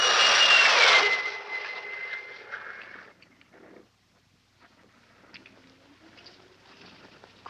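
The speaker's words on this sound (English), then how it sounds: "They were gone, even to the piercing eye of radar and the speeding jet fighters." Jet fighter aircraft engines roar loudly at first, then fade over a few seconds into a distant, faint rumble.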